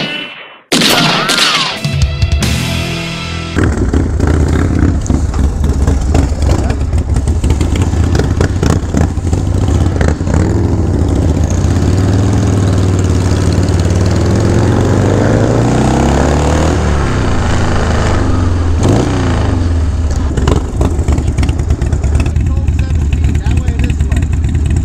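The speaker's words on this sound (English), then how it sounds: "the road captain is gonna ride my Dyna" A Harley-Davidson Dyna motorcycle rumbles steadily with a deep, loud engine drone while riding, rising and falling with throttle changes after a brief startup burst.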